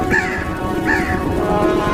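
A crow caws twice in a horror-story soundscape, each harsh call standing out clearly over a steady low rumbling background, with a fainter third call near the end.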